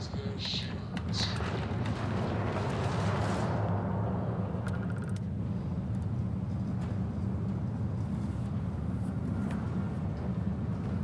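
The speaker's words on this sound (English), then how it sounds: "So apparently the turrets took care of one of the ships, and I blew up the other ship." A spaceship blows up in the Starfield video game, a broad rumbling blast that swells early and then rolls on as a steady low roar, with other game sounds around it.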